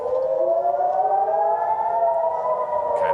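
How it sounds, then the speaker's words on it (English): An air raid siren in Israel wails steadily, its tone slowly rising in pitch and intensity over a few seconds, with no voices. "Okay, the sirens are now increasing their intensity."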